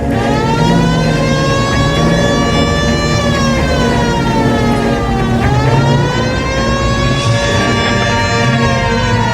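A police car siren in the video game LA Noire wails loudly and continuously, its rising and falling tone sweeping over engine rumble with no speech.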